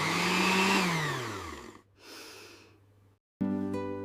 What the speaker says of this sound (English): I grind the chutney.